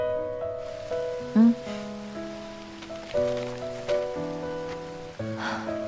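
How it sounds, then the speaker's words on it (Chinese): Steady rain patters on a surface beneath a gentle sustained musical backdrop of soft tones. "怎么还在下雨啊？"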